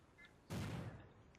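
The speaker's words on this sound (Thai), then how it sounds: "อันนี้จะเป็นเสียงคนยิงนะครับ" A single burst of gunfire from a shooter in the battle-royale game Rules of Survival rings out abruptly and loud, lingering briefly in a short decaying tail before fading.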